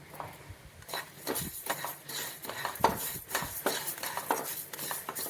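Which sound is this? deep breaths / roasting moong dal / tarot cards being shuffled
roasting moong dal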